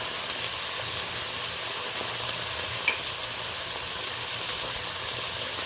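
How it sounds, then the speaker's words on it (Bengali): Eggplant fries in oil with a black cumin seed tempering, salt and turmeric, producing a steady, moderately loud hissing sizzle with faint stirring scrapes and no talking. "লবণ হলুদটা দিয়ে বেগুনটাকে আমি কালো জিরে ফোড়ন দিয়ে ভেজে নিচ্ছি।"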